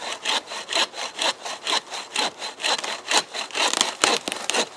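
A cheap dollar store bucksaw cuts through wood outdoors, with loud, close, rhythmic rasping push-and-pull strokes about twice a second, and no talking.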